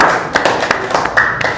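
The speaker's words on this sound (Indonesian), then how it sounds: "Beri tepuk tangan untuk kelompok 1." A classroom group applauds group 1 with short, scattered claps, a few hands tapping unevenly for under two seconds, close and uneven, with no one talking.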